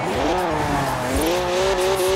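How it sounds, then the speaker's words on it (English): A twin-turbo 3-litre straight-six BMW with 335 horsepower drifts in Forza Horizon 4, its engine note rising steadily under loud tire squeal as it slides sideways through a turn, with no talking. "3 litre straight six, 335 horsepower, two turbos, and as much sideways action as you like."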